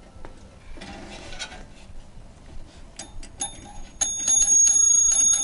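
A mantel clock strikes its chime after some faint mechanical clicking, with bright ringing tones starting and then sustaining loudly and close, the bell sound judged not quite right.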